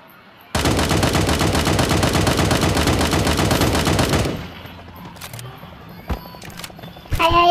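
Rapid automatic gunfire in the video game Sausage Man, a loud continuous burst lasting several seconds that cuts off, followed by scattered single shots and clicks.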